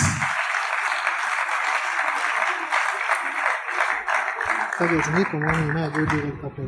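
Steady applause from a conference audience fills most of the stretch, many hands clapping evenly, with a voice starting to speak over the tail end.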